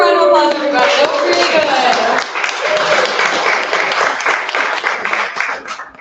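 Applause from the audience at a Finnish brewers championship coffee service round: a dense, steady wash of many hands clapping that fills the space and holds strong throughout, with some voices mixed in before it thins slightly at the end.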